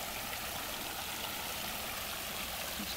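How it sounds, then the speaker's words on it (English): Steady, dense rushing of water from a sewer overflow, a continuous broadband roar with no pauses, loud and close, like a heavy outflow gushing from a pipe. "The water noise you hear is not the creek, however. It is the sewer overflowing."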